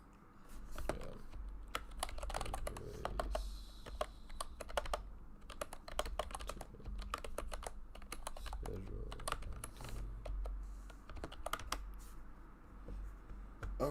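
Rapid clicking on a new computer keyboard: a steady, close clatter of keystrokes with brief pauses, continuing throughout.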